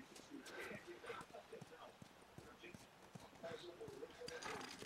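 A horse clip-clops steadily in The Last of Us on PS4, its hooves quiet and rhythmic beneath a person talking throughout.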